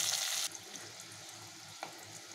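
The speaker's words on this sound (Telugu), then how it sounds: "ఉల్లిపాయలు, పచ్చిమిరపకాయలు, కొంచెం బ్రౌన్ కలర్ వచ్చే వరకు ఫ్రై చేసుకుందాం." Onions and green chillies frying in a pan, a bright, loud sizzle that stops abruptly after half a second, leaving a faint low crackle and one soft clink of stirring.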